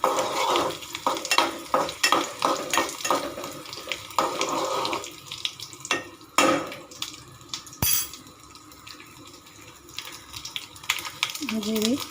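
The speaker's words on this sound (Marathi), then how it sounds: "तेल खूप तापलं आहे कढीपत्ता मोहरी टाकते" Curry leaves and mustard seeds crackle and sizzle in very hot oil while tempering khaman dhokla made from gram flour, a close, busy spatter with sharp pops through the first half, settling to a lighter fizz, with a brief voice near the end.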